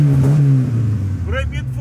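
A Chevrolet Chevette with a weak battery starts and its engine revs, a loud, close rumble that rises and falls in pitch while people talk over it.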